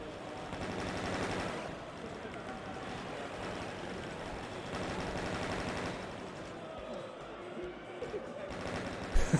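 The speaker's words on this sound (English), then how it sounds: "So many Marines with chain guns out there just firing away." Sustained automatic chain gun fire from Marines in DOOM Horde Mode, a dense continuous rattle of rapid shots layered with game effects, steady and loud throughout.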